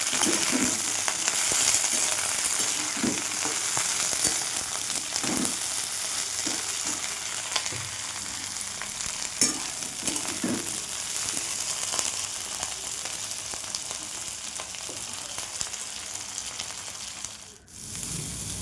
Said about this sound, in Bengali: তারপর ছোট ছোট করে কাটা ফুলকপিটাকে ভেজে নিতে হবে একটু নুন দিয়ে।